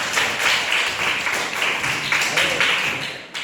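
An audience at an Indonesian school gathering claps together after singing a patriotic song, a dense, steady patter of many hands filling the room at moderate volume for the whole stretch, with some voices mixed in.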